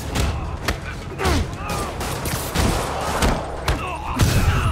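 Rocket explosions burst in a Marvel's Spider-Man game on PS4, a rapid barrage of booms and thuds in quick succession with sharp transients, loud and close, layered over busy combat noise.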